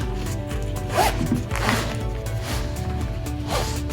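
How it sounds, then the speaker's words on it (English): A zipper on a toiletry bag pulled closed in several quick, rasping strokes, close and clear with a soft rustle of fabric, no talking. "now we'll just zip this guy up."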